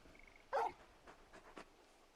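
Torgal, a large dog in the video game Final Fantasy XVI, gives a short whimpering yelp followed by a few faint, soft whines, heard close and quiet with no talking.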